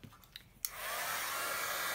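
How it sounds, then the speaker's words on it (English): A heat gun switches on with a click and then blows a steady, loud airy roar at close range to shrink tubing, holding constant to the end after a few faint handling knocks. "I have a heat gun, so I use it."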